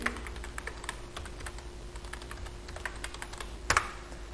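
Someone types a password on a computer keyboard, producing a steady run of quick, light key clicks close by, with one sharper, louder keystroke near the end and no talking.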